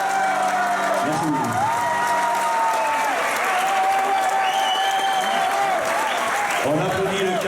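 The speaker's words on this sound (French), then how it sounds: "On applaudit le candidat numéro 5, Damien" An audience at an amateur singing contest applauds a contestant with sustained clapping, some cheering and whoops, while a voice talks over the crowd.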